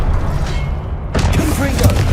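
The Confringo blast spell going off in the video game Hogwarts Legacy: a heavy, close boom with a sharp burst about midway, over rumbling combat noise, with a voice calling out.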